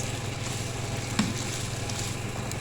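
Boiled instant noodles stir-fried with vegetables in a pan, a soft steady sizzle with faint stirring scrapes and one small clink, quiet and close throughout.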